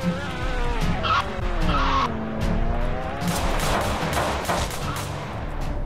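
A car in a Roblox hood game skids while running someone over, its tires squealing in long wavering sweeps over a loud engine drone, with a few sharp gunshot-like cracks mixed in.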